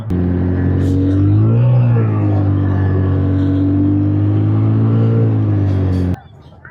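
A snow bike's engine revs loudly and steadily in the snow of a winter glacier area, a close, sustained motor drone that rises in pitch briefly before cutting off abruptly near the end.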